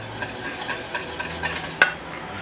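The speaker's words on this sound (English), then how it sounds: "Make sure you turn your heat off and just stir this in" Butter being stirred into banana pudding in a pot off the heat, soft wet scraping and swishing strokes close by, ending in a sharper knock of the spoon against the pot.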